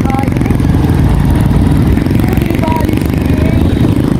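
A motorcycle engine runs steadily up close on a trip, a loud continuous rumble and clatter throughout with people talking over it.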